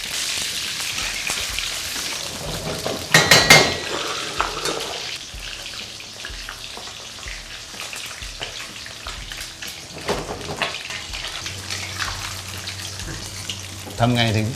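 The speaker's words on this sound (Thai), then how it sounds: "ใส่ปลาลงไปทอด ทอดให้เขาเหลืองหน่อย" Fish frying in hot oil in an iron wok, a steady crackling sizzle with a brief burst of clatter early on, running throughout at moderate loudness.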